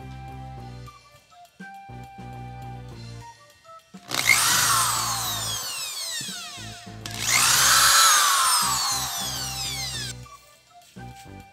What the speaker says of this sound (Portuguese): agora vamos fazer os quatro furinhos aqui para poder botar os parafusos